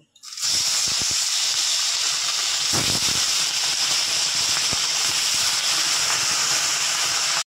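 Mrigal fish pieces slide one after another into hot oil, setting off a loud, steady hiss of sizzling with brief spattering bursts that continues unbroken to the end, with no voices.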